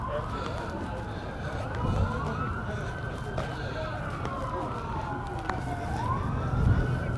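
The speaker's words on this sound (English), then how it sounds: "Oh no, it's an ambulance." An ambulance siren wails through the streets of Washington D.C. on inauguration day, its tone sweeping up and down in slow cycles at moderate distance over steady city and traffic noise.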